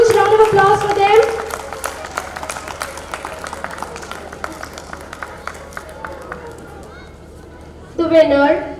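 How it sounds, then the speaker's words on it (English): An audience at a school annual day prize distribution ceremony breaks into brief scattered clapping between announcements, fairly distant, while a speaker's voice comes over the loudspeaker before and after. "May we have a huge round of applause for them?"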